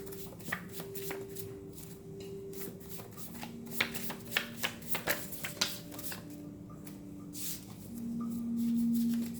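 A deck of cards being shuffled by hand, with soft riffles and a run of sharp flicks and taps in the middle, close and fairly quiet, over a faint steady hum.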